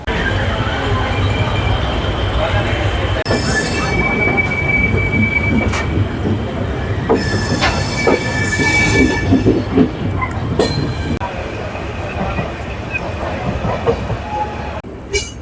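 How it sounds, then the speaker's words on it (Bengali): The 18409 Shri Jagannath Express from Shalimar rumbles steadily along the rails, wheels clattering and occasionally squealing, loud and close for the whole stretch. "আমাদের ট্রেনটা আসছে শালিমার থেকে"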